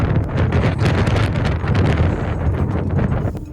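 Strong wind buffets the microphone continuously during a night climb on Kilimanjaro, a loud, rough roar with gusting surges throughout.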